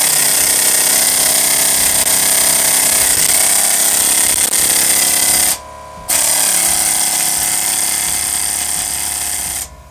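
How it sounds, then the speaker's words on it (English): Loud, continuous rattling blows from an air hammer fitted with a chisel, fed by a Milwaukee M18 cordless two-gallon compressor, heard up close with one short pause midway and no talking. "I have an air hammer ready to go with an installed chisel"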